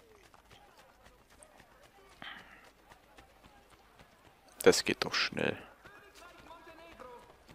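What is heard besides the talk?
horse hooves galloping in Assassin's Creed Brotherhood video game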